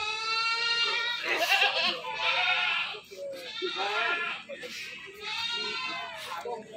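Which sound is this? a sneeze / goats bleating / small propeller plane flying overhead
goats bleating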